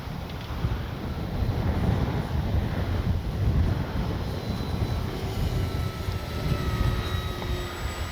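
An E-flite 1100mm T-28 RC model airplane drones steadily in the distance at low throttle, partly masked by heavy wind rumble across the microphone.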